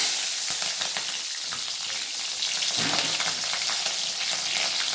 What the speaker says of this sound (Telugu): ఆయిల్ హీట్ ఎక్కిన తర్వాత కొంచెం ఆవాలు ఆవాలు చుట్టుపక్కల ఆడిన తర్వాత పచ్చిమిర్చి చీలికలు వేసుకోవాలి